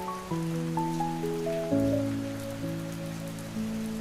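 Steady rain patters on a surface throughout, a soft continuous wash beneath sustained musical tones, with no voices.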